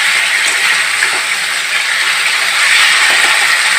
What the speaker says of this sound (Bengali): তারপরে একটু জল দিয়ে দেবো।